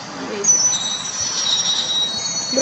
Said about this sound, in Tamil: ட்ரெயின் முன்னாடி போகணும்.